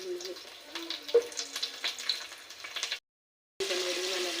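Onion and whole spices such as cinnamon frying in hot oil for a chicken curry, a steady close crackling sizzle with brief stirring clatter, broken by a short silent gap before the frying resumes.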